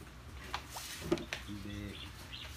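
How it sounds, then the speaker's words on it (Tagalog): Racing pigeons being submitted for a one-loft race, giving soft cooing calls and a few chirps close by, with faint speech and small handling noises in the background. "Ayan na yung mga ibon natin"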